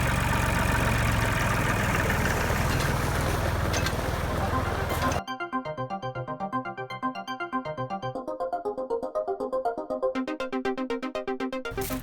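An old tractor engine idles steadily at a garden nursery, at first as a loud, rough rumble with hiss, then as a clearer rhythmic chugging with a pulsing knock, close by and without talk.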